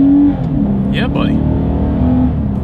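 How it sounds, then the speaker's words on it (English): A 2020 Lexus IS 300 F Sport accelerating hard, its engine note rising steadily and loudly up close from inside the cabin, with a passenger's short excited exclamation over it. "Let's do a quick little acceleration with the car having full control, and let's see how quickly we can get this one here up to speed"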